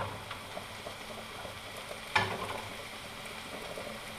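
Mushrooms frying in smoking-hot olive oil in a pan for a vegan risotto, a steady close sizzle that flares into a sharper crackling burst midway, then settles again.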